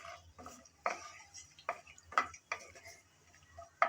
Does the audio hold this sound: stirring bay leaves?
yes